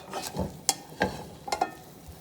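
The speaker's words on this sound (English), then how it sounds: "I'm gonna flip it on that again just to get it browned up a little bit." An omelet flipped and browning in a frying pan: a few short sharp knocks and scrapes of the pan and spatula over a soft, close sizzle, all within a couple of seconds.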